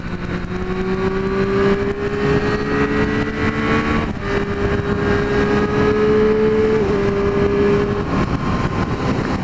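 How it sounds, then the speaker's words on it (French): A Triumph Street Triple 765 motorcycle engine revs at high rpm, its loud, close whine holding steady pitches with a brief dip midway, continuous throughout with no talk. "Oh, le moteur, comment il hurle, c'est un plaisir."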